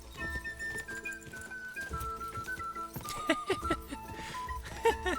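Horse hooves clip-clopping in the medieval game Kingdom Come: Deliverance 2, a steady light clatter running under melodic background music with scattered tonal clinks, moderately close and never loud.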